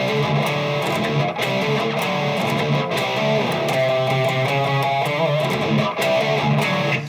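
A distorted electric guitar plays a chord part, with strummed chords ringing one after another at a steady, loud level and no talking.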